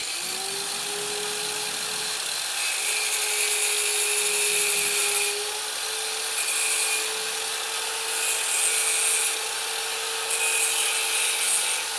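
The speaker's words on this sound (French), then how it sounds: "ce que Philippe vient de faire avec le grinder et la perceuse, c'est vraiment de bien ébavurer le liner" Angle grinder and drill deburring a liner during an Airgomig liner replacement: a continuous, loud high-pitched whine of a spinning tool grinding against material, steady in tone with slight surges, no talking.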